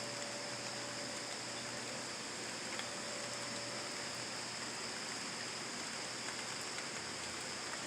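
Steady outdoor rain falling a little more heavily during drought conditions, with leaves on the ground, forming a constant even hiss with no distinct drops standing out and no talking.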